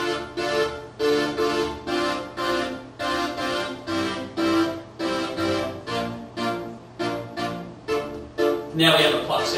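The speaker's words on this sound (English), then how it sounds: "now we have a plucked sound. So the filter's starting nice and wide," Synthesizer plucks with the filter opening wide and then closing quickly, played as a steady looped pattern of short, bright notes that each decay fast, a little over two per second, with no talking.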